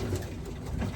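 Racing pigeons in a loft, a soft continuous murmur of cooing and fluttering close by, dense and low against a noisy indoor background, with no voices.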